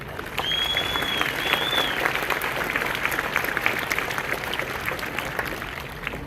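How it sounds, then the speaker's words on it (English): Sustained applause from an audience at the opening of a new building fills the space, steady and dense for several seconds, with a faint high whistle-like tone briefly rising above it early on. "So I'd like to big clap for those two men."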